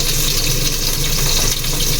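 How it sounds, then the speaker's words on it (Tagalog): Garlic sizzles in hot oil in a pan, a steady, dense frying hiss that runs unbroken and fairly loud throughout, with no voices over it. "Magigisa tayo ng bawang muna."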